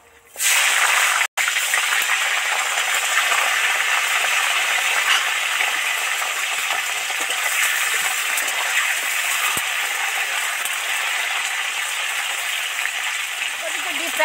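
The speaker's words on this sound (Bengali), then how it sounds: "এবার ওই তেলের মধ্যে ফুলকপি কটা উঠিয়ে দেব।" Cauliflower florets drop into hot oil for deep frying. A loud, dense hiss bursts in abruptly after a brief quiet start and holds steady and close to the end, with one sharp click early on.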